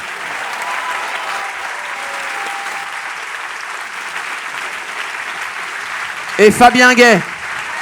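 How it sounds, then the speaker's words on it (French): A debate audience at the Fête de l'Humanité applauds its guests, steady clapping throughout with a host's voice briefly announcing a name over it near the end. "Je vous demande d'applaudir Mathieu Pigasse."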